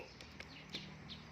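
Chickens clucking softly at close range, a few short calls over a steady low background hum.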